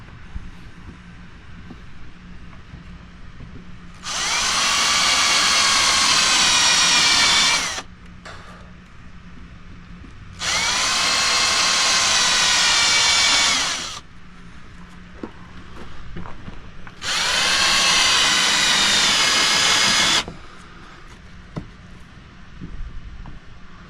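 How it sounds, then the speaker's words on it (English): A spade drill bit bores into wood while building an outdoor stool, giving three loud, sustained high-pitched whining bursts of about three to four seconds each, with quiet pauses between them. "Get the old spade drill."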